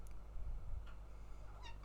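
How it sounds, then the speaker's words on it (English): A pet cat meows softly up close, giving a short, faint call near the end over quiet room noise. "My cat has decided to come say hello."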